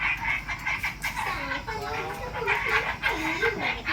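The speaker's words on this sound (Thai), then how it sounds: "ยินแต่กบเสียงเครียดเนาะแถวศาลา" Frogs croak after heavy rain near a village pavilion, a dense chorus of repeated, warbling croaks in quick overlapping bursts, steady and fairly close, over a background of wet outdoor ambience.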